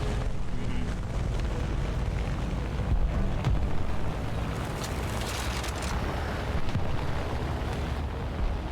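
Bombs exploding on a target in Call of Duty Black Ops 6, a steady deep rumbling roar with low booming swells that runs the whole stretch without voices.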